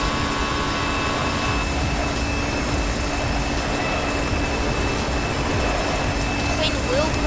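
Steady jet engine roar of a Jardesign A320 airliner in a flight simulator, a continuous broadband rush with faint tonal whine, holding at an even level throughout.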